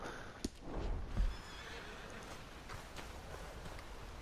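A horse in Red Dead Redemption 2 gives a short whinny close by, followed by a snort and a few soft hoof clops over low outdoor ambience.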